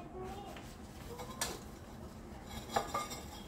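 A metal pan, here a bread loaf pan, is lifted and handled in a home kitchen, giving two short clinks and knocks against a soft background hum.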